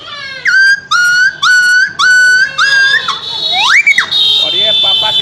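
A man vocally imitates a dog yelping after being struck by a stone: a series of six sharp, high, whistly yelps in a steady rhythm, followed by a few rising, whining cries that trail off.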